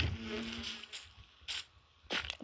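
Bees in the Minecraft video game buzz in short, fairly faint droning bursts that come and go with gaps between them.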